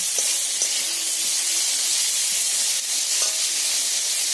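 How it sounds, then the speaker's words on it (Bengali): Chopped tomato sautéed and stirred in a pan of oil for a Bengali bottle gourd fish curry, a steady bright sizzle with a few soft scrapes of stirring, close and continuous, no voices. "টমেটো দিয়ে ভালো করে আমি কষে নেব"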